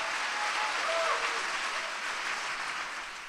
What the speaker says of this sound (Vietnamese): Vỗ tay để khích lệ một sự song vinh các bạn.